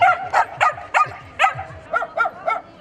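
Several dogs, ranging from puppies to older dogs, bark in quick yipping bursts at an outdoor adoption and family event, about eight sharp, close barks in a rough, uneven rhythm with no talk.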